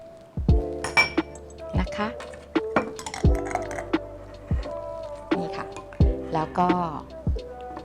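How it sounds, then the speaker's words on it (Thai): A spoon stirs coffee grounds with about three tablespoons of fresh milk into a homemade beauty mix, making repeated bright clinks against the bowl. Someone talks throughout the stirring. "คนเข้าด้วยกัน นี่นะคะ คนมิกซ์"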